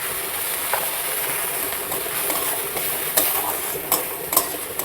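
Ground onion paste and ginger paste fry in oil left from frying fish, giving a steady close hiss and sizzle with a few sharp stirring clicks and spatters toward the end.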